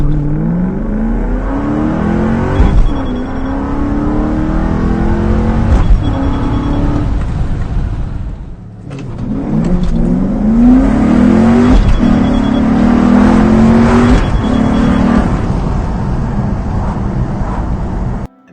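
A car accelerates hard from a standstill to 100 km/h, its engine pitch rising through the revs, pausing briefly at a gear change, then climbing again, loud and close.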